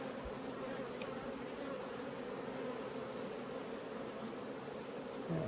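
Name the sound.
honeybees buzzing around an opened hive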